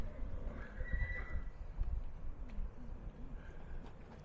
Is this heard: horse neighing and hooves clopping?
yes